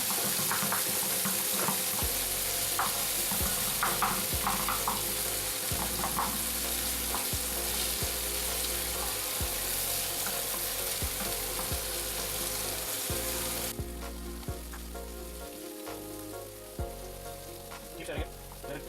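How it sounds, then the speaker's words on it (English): Onions and chicken sausage masala sautéing in a pan: constant loud sizzle and crackle with repeated rhythmic scrapes of a spatula, a low steady hum underneath, no talk. "we saute it till it's a bit brown"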